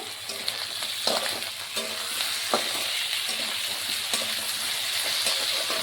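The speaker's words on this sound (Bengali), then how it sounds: "টমেটোটাও ভাজা ভাজা হোক, পেঁয়াজও ভাজা ভাজা হয়ে গেছে" Onion and tomato frying in a pan, a steady loud sizzle with occasional stirring scrapes and small clinks, no voices.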